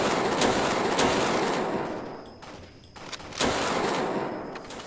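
Shotgun blasts from a Roblox Jailbreak match ring out loud and close in quick repeated bursts, with a short lull in the middle before the firing picks up again.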